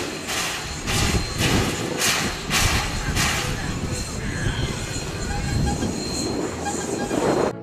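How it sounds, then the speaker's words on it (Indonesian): A green Thomas toy train runs with a steady, close rumbling whir and rhythmic clacking bursts, and a voice can be heard in the background. "Wah, ada kereta Thomas hijau."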